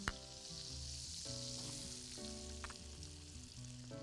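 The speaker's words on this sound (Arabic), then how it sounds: "في نفس الطاسه دي هقوم منزله البصل" Chopped onions frying and sizzling in leftover butter in a pan that had lightly browned pigeon, a steady close hiss throughout with no talk.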